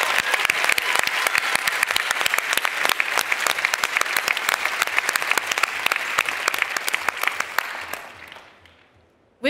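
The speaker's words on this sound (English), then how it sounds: "Let's give a huge round of applause to our volunteers" An audience at the Slush 2023 opening show gives volunteers a big round of applause, a dense roar of many hands clapping at steady volume that tapers off and fades out near the end.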